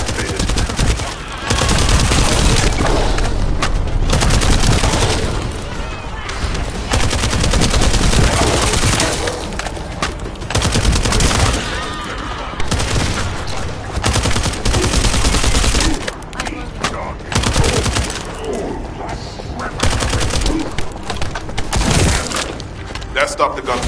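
Gunfire in the video game The First Descendant: dense, loud bursts of automatic weapon fire and booms nearly continuous throughout, with brief lulls between volleys.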